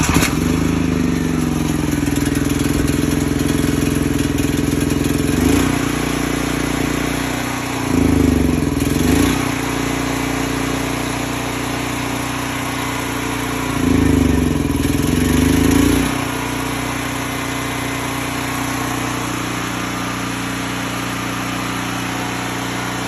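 A portable generator converted to dual fuel LP runs rich nearby, a loud steady engine drone with two brief surges in load or speed partway through and no talking.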